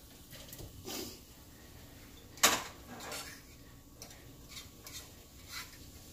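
Vegetables with a few drops of added water stirred in a pan, with scraping strokes and a sharp utensil clack against the pan over a low sizzle.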